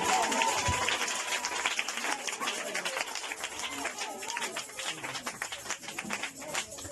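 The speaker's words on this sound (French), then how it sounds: "Acclamez le Seigneur Jésus." A church congregation at a Saturday evening divine healing service in Bangolo claps and cheers, a dense, steady wash of applause that fills the room for several seconds, with crowd voices mixed in.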